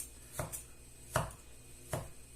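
A knife chops a tomato in three distinct, evenly spaced cuts, each a soft thud on the board, close but quiet against a low background hush.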